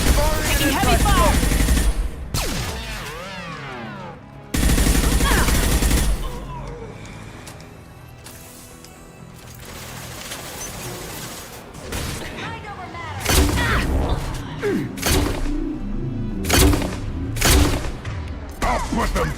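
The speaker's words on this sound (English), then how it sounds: "Taking heavy fire!" Heavy gunfire in Mass Effect: loud, repeated bursts of weapon fire and booming impacts in a chaotic firefight, broken by quieter gaps, with voices speaking between the volleys.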